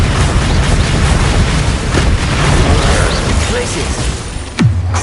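Repeated Confringo spell explosions in Hogwarts Legacy on PS4 rumble through loud, busy combat noise, ending in a sharp, heavy blast near the close, while a voice calls out spells.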